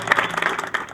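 A brief burst of audience applause at a Popular Electronics event welcoming actor Surafel Teka after a car prize, with dense, close hand claps.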